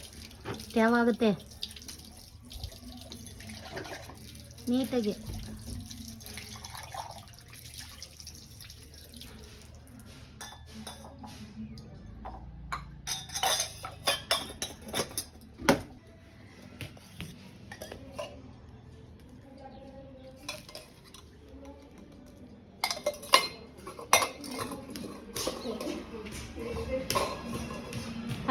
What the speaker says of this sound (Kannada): ಊರಿಗೆ ಬಂದು ಪಾತ್ರೆ ತೊಳಿತಿದ್ದೀನಿ